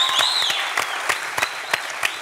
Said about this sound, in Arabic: صفق عليه تصفيق قوية برشا